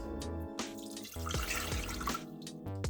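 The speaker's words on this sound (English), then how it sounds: "get 1 cup of cold or hot water. 1 cup into the pan." A cup of water is poured into a cooking pan for churro dough, splashing and trickling in short bursts against a faint background tone, with no one speaking.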